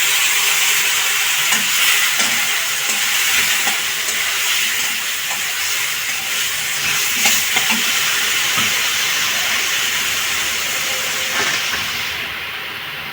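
Spice paste fries in hot oil with a steady, loud hiss and sizzle and occasional faint stirring scrapes, and no talking.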